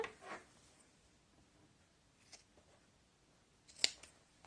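Scissors cutting quilted faux leather, heard as a few faint, separate snips spaced out over a quiet background, the last one sharper and louder.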